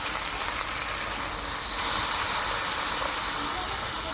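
Water is poured onto dried fish and Malabar spinach frying in a pan, and a steady loud hiss and sizzle rises and holds with no voices.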